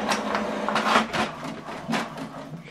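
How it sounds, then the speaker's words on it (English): An HP Deskjet printer prints a document, giving a close series of mechanical whirs and sliding rattles in uneven bursts that rise and fade, with no talking. "Now this document, we're going to print it on both sides."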